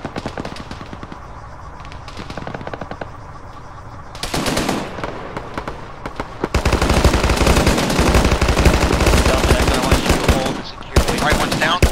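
Machine gun fire in a combat setting rattles in rapid, sustained bursts, sparse and faint at first, then growing into loud, dense continuous fire from several guns over the last half.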